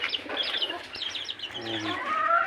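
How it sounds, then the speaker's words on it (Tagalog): Chicks and chickens on an organic farm raising vegetables, chickens and doves, giving a steady run of close, high chirps and clucks over a low farmyard hum, with no talking. "Ayan, mga sisiw."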